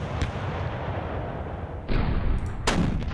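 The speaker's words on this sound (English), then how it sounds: "here we go with 12 Volksgrenadier Division's artillery assets. Definitely hit them." Artillery fire from the 12th Volksgrenadier Division in the wargame Panzer Campaigns Bulge 44 sounds as a series of loud booming shots over a dense rumbling bed, with sharper blasts near the end and no speech.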